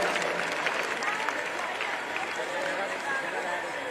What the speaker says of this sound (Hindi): राजा भाई के लिए तालियां